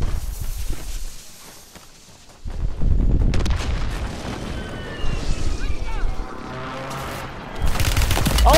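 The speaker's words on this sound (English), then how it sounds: "Friendly position airstrike inbound." An airstrike in the Call of Duty video game sets off heavy booming explosions and rolling rumbles, with bursts of gunfire and a game voice in the mix.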